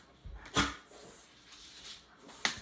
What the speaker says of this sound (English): If you hear background noise, I do apologize. They are my dogs playing.